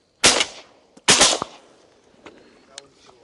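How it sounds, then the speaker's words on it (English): Two loud, close shotgun blasts about a second apart during a public duck hunt in Nebraska, each followed by a short decaying echo, then faint rustling. "Shoot him, Creighton."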